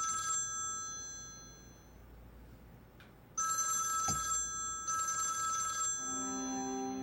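A telephone ringing close by in bright electronic bursts, with a short pause between rings and a thump heard in the quiet gap.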